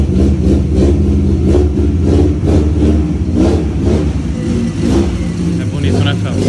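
A 1977 Volkswagen Passat engine running after a carburetor cleaning, loud and close with a steady rumble and rhythmic revving pulses, while people talk over it.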